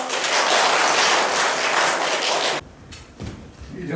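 An audience at a Korean literary book launch and award ceremony bursts into warm applause, a dense sustained clapping that fills the room for over two seconds, then drops away abruptly to a few scattered claps.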